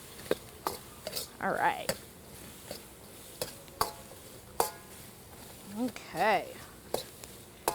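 Garlic, ginger, Szechuan peppercorn, serrano and Thai chilies are stirred in a hot pan at a cooking demo, giving sharp clanks and scrapes of utensil on metal with brief sizzling swells, while someone speaks briefly between the sounds.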